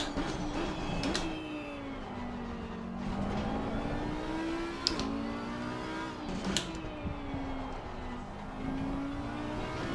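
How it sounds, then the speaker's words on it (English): A Maserati race car engine roars in Assetto Corsa Competizione on Xbox Series X, racing at Indianapolis, its tone rising and falling smoothly through gear changes under a steady whir. "Yeah, the Maserati sounds so good too."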